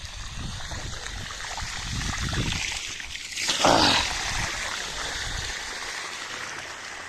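Water gushes and splashes out during the cleaning and deepening of a large well, a steady rushing trickle with a louder splash burst midway.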